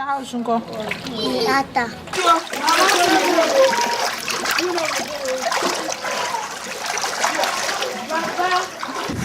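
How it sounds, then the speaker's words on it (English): Water splashing and sloshing as children wade through flooded streets, close and continuous, mixed with children's voices talking throughout. "Children had no option but to walk through the flooded streets to get to their homes."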